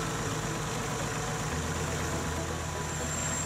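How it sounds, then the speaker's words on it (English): A Kubota L Series tractor engine runs at a steady idle, a continuous low mechanical drone with no voices over it. "For the final PTO test, start the tractor."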